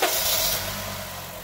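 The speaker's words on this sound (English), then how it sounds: "fire the car up" A 2009 Honda Fit engine fires up in a garage during radiator replacement work, a brief loud start burst settling into a steady, close idle hum.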